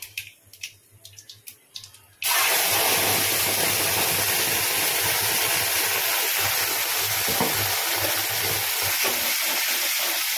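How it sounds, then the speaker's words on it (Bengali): Bottle gourd peel paste poured into hot mustard oil with black cumin seeds tempering in the pan, bursting into a loud, steady sizzle after a quieter start of faint kitchen clatter. "এবার আমি গ্যাসের ফ্লেমটা কমিয়ে দিয়ে একটু কালো জিরে ফোড়ন দিয়ে ওই লাউ পাতা খোসার যে বাটাটা ঢেলে দেবো"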